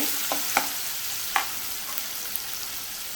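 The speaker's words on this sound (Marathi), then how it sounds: "लसूण मिरची आलं आणि कोथिंबीर जी वाटून म्हणजे भरत करत मी कुटून घेतली आहे खलबत्त्यामध्ये ती घातली थोडीशी परतून घ्यायची" Crushed garlic, green chili, ginger and coriander paste pounded in a mortar sautéing in hot oil, a steady soft sizzle with a few light spoon scrapes, close and alone, while cooking a Koli-style dried bombil, brinjal and potato curry.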